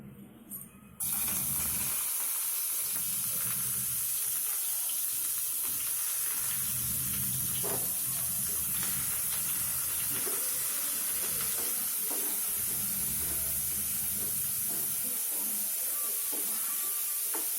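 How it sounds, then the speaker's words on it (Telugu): Onions fry in hot oil in a home kitchen, giving a steady close hiss and sizzle with occasional stirring clatter throughout and no voices. "ఇప్పుడు మనం ఆయిల్ బాయిల్ అయింది. ఫస్ట్గా మనం ఆనియన్స్ వేసుకుందాము."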